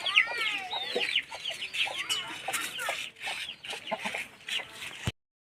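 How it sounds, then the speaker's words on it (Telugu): Chickens cluck steadily at close range in a small tribal village in a dense forest, with a busy run of short, overlapping clucks and calls that ends abruptly. "ఫ్రెండ్స్ చూసారండి, కోళ్ళ కూడా అనమాట."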